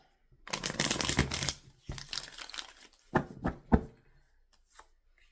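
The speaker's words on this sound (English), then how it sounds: "I can tell that just by shuffling the cards." Tarot cards shuffled by hand in bursts: a long riffling flutter, then shorter crisp snaps and slides, close and fairly loud against quiet gaps.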